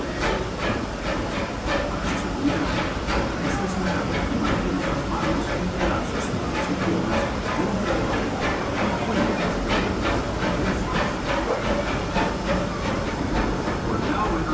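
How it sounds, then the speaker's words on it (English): Riding aboard the Disneyland Railroad steam locomotive train: a continuous loud rumble with steady hiss and rhythmic rail clatter, carrying on without a break throughout. "welcome aboard the Disneyland Railroad"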